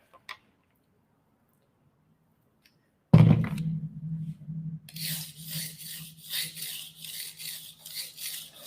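A Chinese cleaver is sharpened on a whetstone: after a sudden knock and a low hum, steady rhythmic scraping strokes of the blade on stone continue, close and moderately loud.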